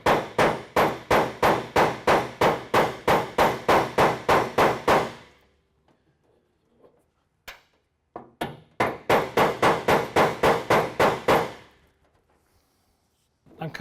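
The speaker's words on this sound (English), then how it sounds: "I'm also going to tap it on the bottom with a brass hammer." A brass hammer taps the bottom of a threaded car hood stud in a quick, even run of about fifteen sharp metallic strikes, then after a pause with faint handling noise, a second similar burst of rapid taps.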